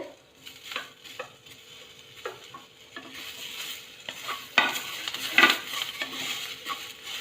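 Garlic and chunky tomato pieces fry in a pan for singara potato curry, with soft sizzling under frequent scraping stirs that swell into a louder, busier burst of spatula strokes midway, all close up and without speech.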